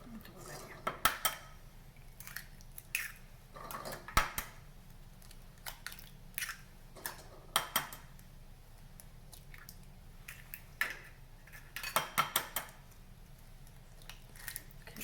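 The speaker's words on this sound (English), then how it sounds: "Then I'm gonna start adding my eggs. And crack that so well." Six eggs are cracked one after another against a bowl for almond biscotti, giving sharp, close taps and clicks in small clusters with quiet gaps between them.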